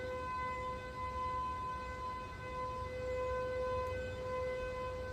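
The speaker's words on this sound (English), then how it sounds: "the siren is really that way." An outdoor civil defense siren test: a steady, distant wailing tone that holds for several seconds, faint but continuous over low background hum, with no voices.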